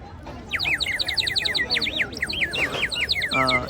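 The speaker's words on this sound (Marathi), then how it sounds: "पाणी टाकलं तर आवाज वेगळे येतं चिमणीचा आवाज येतो पाणी टाकल्यावरती" Rapid, warbling whistled chirps from a water-filled bird whistle repeat in quick trills like a sparrow, loud and close, with a brief voice near the end.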